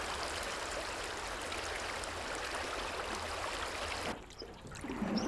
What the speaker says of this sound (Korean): 삼 일 동안 내린 비로 강물이 불었다